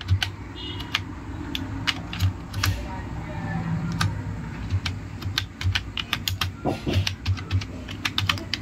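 Typing a command on a computer keyboard for a Raspberry Pi, a steady patter of close key clicks throughout with a low hum beneath and someone talking over it.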